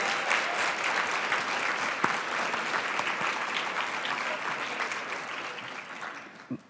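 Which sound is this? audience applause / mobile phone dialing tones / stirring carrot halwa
audience applause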